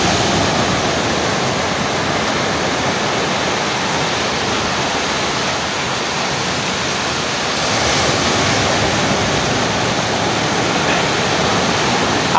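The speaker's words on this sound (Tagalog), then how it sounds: "Tataas ng alon, no?" High ocean waves wash onto a rocky shore at a fishing spot, a loud, continuous roar of surf with a slight swell partway through and no voices.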